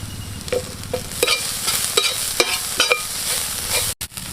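Green chillies added to softened, salted onions frying in a pan for a goat intestine and egg gravy: a continuous oily sizzle with repeated scraping stirs of a spatula, close and clear with no talk.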